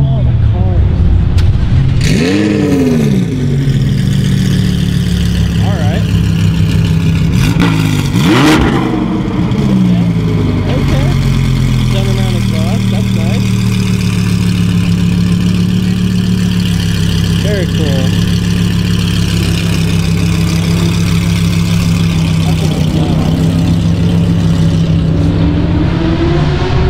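Cars arriving at a car meet featuring supercars like a Lamborghini Aventador and Huracan, a loud continuous rumble of idling engines with several sharp revs early on, under constant chatter from people nearby.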